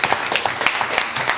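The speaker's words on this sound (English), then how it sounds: "So everyone clap for both people" A room of debate participants claps, a dense burst of applause with a few louder nearby claps, steady throughout the short stretch.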